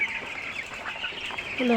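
Caged chickens on a village poultry farm cluck in a steady, close run of short calls, with a faint voice murmuring underneath.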